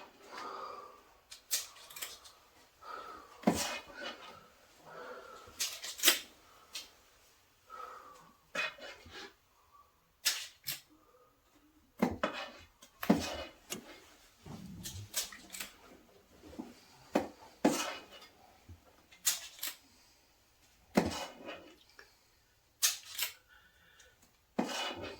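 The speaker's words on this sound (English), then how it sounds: "I'm just going to do a nice level scoop in each one" A yellow scoop scrapes and taps against metal cake pans while cake batter is portioned out, giving repeated sharp clinks and scraping strokes in an irregular rhythm, close and clear with no talking.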